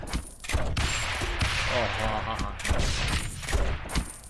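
Rapid bursts of mortar tower fire from Rogue Tower pop and thump in a busy, repeating cluster at moderate loudness, with faint speech mixed in.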